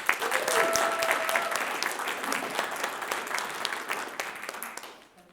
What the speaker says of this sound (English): Please help me one more round of applause to welcome our candidate